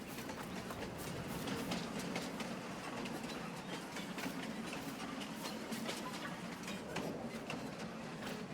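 A train rolling along the tracks in Farming Simulator 22, a steady continuous rumble with rhythmic clattering throughout, fairly close and unbroken, with no talk over it.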